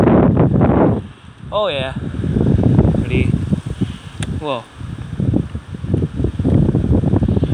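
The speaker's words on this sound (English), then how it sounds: "It's freaking windy, like look." Strong wind buffets the microphone while someone rides a bike outdoors, a loud continuous rushing roar that surges and dips, with a person talking briefly over it.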